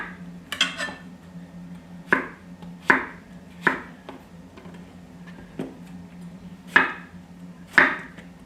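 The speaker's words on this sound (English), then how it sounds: "Notice I'm just cutting these in half." Squash being cut in half with a knife on a cutting board: a series of sharp, separate chops at an irregular pace over a low steady hum, close by with no talking.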